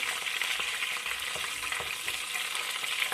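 Close, steady sizzling and crackling of chicken wings frying in hot oil in a pan, with scattered pops and spits and no talking.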